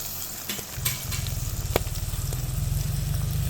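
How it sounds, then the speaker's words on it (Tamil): Sliced eggplant sizzles and crackles in hot oil over an outdoor village stove, a close, steady frying hiss with a rapid bubbling rhythm and no voices. "அங்கே கத்திரிக்காய் பொரிக்கட்டும்"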